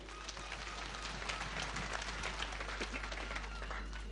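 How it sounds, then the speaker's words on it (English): Congregation at a funeral farewell service clapping hands together, a dense, steady wash of many hands close by, continuous throughout with faint murmuring underneath. "let us give a mighty hand clap to the Almighty God"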